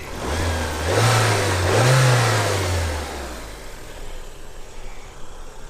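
A 1994 Toyota Celica GT4 WRC engine blipped twice while parked, two quick revs rising and falling close by, then settling back to a steady idle with no talking.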